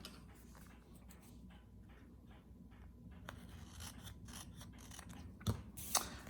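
Scissors snip through paper-crafting material for a card box, a quiet series of close, dry cutting rasps and clicks, ending in a couple of sharper snaps, with no talking.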